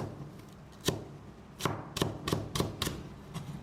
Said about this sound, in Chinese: 准备1把小葱，直接把它切成葱花